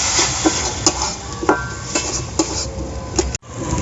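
Ground cumin, coriander, turmeric and chilli powder being stirred into oil in a pan, with regular scraping and clinking strokes of a spoon against the pan about every half second over a low sizzle.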